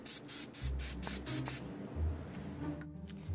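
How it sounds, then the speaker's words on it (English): Brake parts cleaner is sprayed onto an old Saturn S-series trailing arm in several quick, close hissing bursts, followed by a brief pause and one shorter final spritz. "Just gonna go ahead and clean this up with a little bit of brake parts cleaner."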